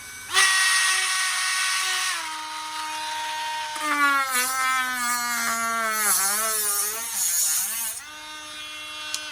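A Bauer 8V cordless rotary tool whines at high pitch as it spins up and cuts, its tone dropping and wavering under load, then rising again, loud and close throughout.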